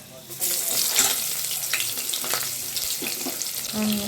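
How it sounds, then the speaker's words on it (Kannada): Onions with bay leaf sizzle and crackle steadily in a hot pan, a close, continuous frying hiss with occasional stirring scrapes throughout. "ಅದು ಚೆನ್ನಾಗಿ ಬ್ರೌನ್ ಕಲರ್ ಬರುತ್ತೆ ಅಂತ ಫ್ರೈ ಮಾಡಬೇಕು"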